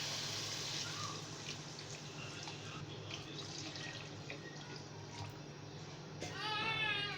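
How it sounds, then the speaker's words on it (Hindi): About a litre of water is poured into a pot of browned meat and potatoes, making a soft, steady, fairly faint splashing pour that swells near the end. "1 मिनट के बाद हम इसके अंदर 1 लीटर के करीब पानी डाल देंगे।"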